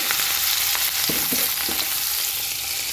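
Green peas frying lightly in oil give a dense, even sizzle throughout, with a few soft stirring knocks near the middle.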